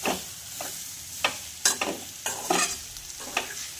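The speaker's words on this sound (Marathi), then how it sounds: "जाडसर आपण वाटाणे वाटून घेतलेले होते ते सुद्धा यामध्ये घालायचे आहेत आणि छान असं हे फ्राय करून घ्यायचं आहे।" Coarsely ground green peas frying in a pan, with a steady sizzle under repeated spatula scrapes and stirring strokes close up, no talking.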